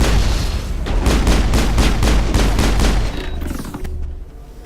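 Rapid automatic gunfire in Mass Effect rattles off in a steady burst of about a dozen close, loud shots before tapering into quieter combat noise, with no talk over it.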